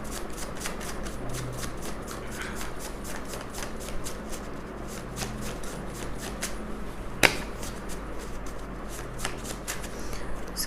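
Tarot cards shuffled and picked during a Hindi reading, a steady run of crisp riffling flutters and flicks repeating closely for the whole stretch, with one sharper snap midway and no talk over it.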